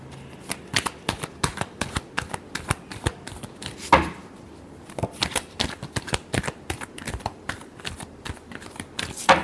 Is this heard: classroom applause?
no